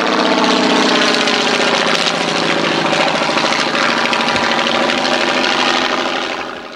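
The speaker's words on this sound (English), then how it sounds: "this triplane replica is powered by a 220 horsepower Continental radial engine" A 220 horsepower Continental radial engine on a triplane replica runs loud and close, a steady throbbing drone that tapers slightly at the very end.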